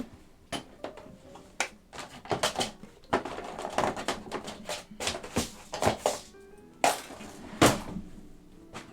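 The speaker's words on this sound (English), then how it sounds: "then we'll put our keycaps on" Mechanical keyboard keycaps being pressed onto switches during a Minivan build, a run of sharp plastic clicks and snaps at an uneven pace, close and fairly loud, with short pauses between bursts.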